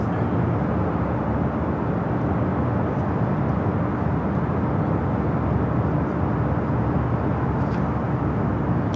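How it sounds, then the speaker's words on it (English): A China Eastern airliner takes off at LAX, a loud continuous jet engine roar that holds steady and broad throughout with no talk. "China Eastern heading up here for north side takeoff"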